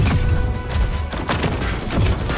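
Gunfire in the mecha battle-royale game Super Mecha Champions, a loud, close run of heavy impacts and booming shots in bursts over a dense, noisy game mix, with no talking.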